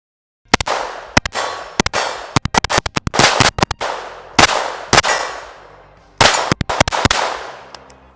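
Aguila .22LR ammunition fired in bursts at a range, sharp loud cracks in quick clusters with ringing metallic clangs, separated by short pauses.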